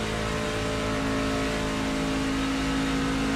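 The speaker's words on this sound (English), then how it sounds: "Even just hearing the audible noise of this engine without being in the draft, it almost sounds like he's got a problem." A race truck engine in a racing video game at Talladega drones steadily at high speed, a continuous loud mechanical hum with no speech, sounding slightly off as if the truck has a problem.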